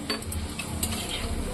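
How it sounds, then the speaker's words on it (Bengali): Radhaballavi stuffed bread frying in hot oil, a steady low sizzle with a few light ticks and utensil clinks over it, close and continuous. "এই দেখো রাধা বল্লভী ভাজাভাজি চলছে।"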